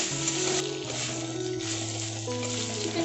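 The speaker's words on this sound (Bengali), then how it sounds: "চিকেনটা আমার ফ্রাই হয়ে এসেছে।" Chicken fries in a pan for a bakery-style chicken bun, giving a soft, continuous sizzle under a steady tonal background with no speech.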